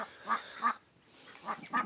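Farmyard ducks quacking in two pairs of short, nasal calls with a pause between, fairly close and alone without talk.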